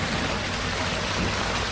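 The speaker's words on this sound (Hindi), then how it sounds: "बिजली की कड़कड़ाहट और तेज बारिश की आवाज से पूरा माहौल और भयावह लग रहा था।" Heavy night rain in a dark forest, used as a horror-story sound effect: a continuous close hiss of downpour with steady patter, even and unbroken throughout.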